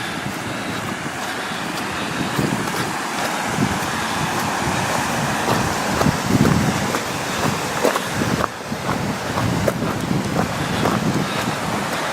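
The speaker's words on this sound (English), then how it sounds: "More waterfalls and rapids." Waterfalls and river rapids rush in a continuous broadband roar, steady and fairly loud throughout, with some wind buffeting on the microphone.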